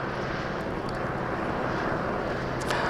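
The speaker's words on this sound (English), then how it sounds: "You might be able to hear some of the helicopters flying overhead." Several news helicopters circle overhead at Payne Field, an airfield, making a continuous broad rumbling drone that holds steady and fairly loud throughout, with no talking.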